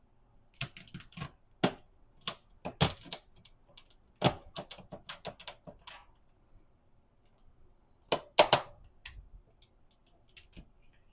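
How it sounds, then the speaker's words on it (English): A knife works through lobster shells to halve them, sharp crunching clicks and cracks in irregular clusters, close and crisp, with quiet pauses between. "Just gonna unfold them and cut them in half."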